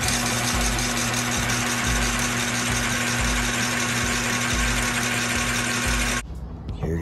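An Atlas Craftsman 618 metal lathe runs on reverse power feed, giving a steady close mechanical drone with a constant motor hum and faint rhythmic ticking, then cutting off abruptly near the end.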